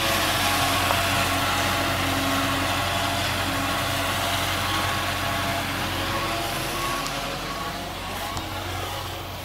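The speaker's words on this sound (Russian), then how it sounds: "Вот он трактор ходит здесь." A new mower tractor engine runs steadily at a constant drone, loud and close throughout, with a faint voice calling in the background.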